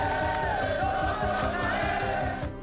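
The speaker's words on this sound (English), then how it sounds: "Crowds of Congolese police officers singing and clapping." A crowd of Congolese police officers singing together, sustained sung tones over rhythmic low thumps of clapping, loud and close with a chanting group quality.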